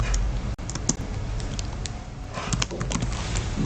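Someone types an SQL query on a computer keyboard, a steady patter of close, quick keystrokes with small pauses and a few sharper clicks, with no voices.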